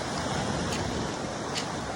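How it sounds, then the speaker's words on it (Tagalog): Strong storm-driven sea waves pound the rocky shore at Amper Beach, a loud, continuous broadband roar of surf with wind buffeting the microphone and occasional brief surges. "Malakas ang alon kasi may bagyo raw."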